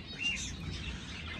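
Lovebirds at a bird reserve give a faint, brief high chirp near the start, set against a steady low outdoor hum with no talking.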